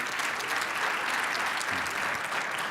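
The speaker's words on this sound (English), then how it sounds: "I'll let Jules know she got some applause at her world premiere" Audience applause at a retail industry conference after a premiere, a dense, even roar of many clapping hands at steady moderate volume.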